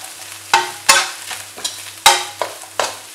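Cabbage, carrot and egg stir-fried for chicken fried rice at a roadside stall. About seven loud, close metal spatula strikes ring out over a continuous sizzle and low hum.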